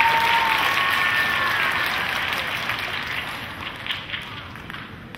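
Audience applause at a student award ceremony, dense clapping from a seated crowd that gradually thins and softens toward the end, with no voices over it.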